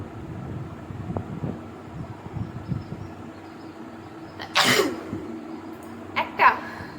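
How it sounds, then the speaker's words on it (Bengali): A woman sneezes, prompted by poking a safety pin into her nose, with two sharp bursts in quick succession near the end after quiet rustling and faint breathing. "এই যে দেখো সেফটি পিন দিয়ে স্নিজিং দেবো"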